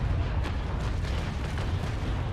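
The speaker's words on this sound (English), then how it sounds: "Now I'm gonna fire my two carronade decks." Rumbling, booming cannon fire from ship carronades in the naval battle game Naval Action, a continuous heavy low roar with several distinct shot bursts close together.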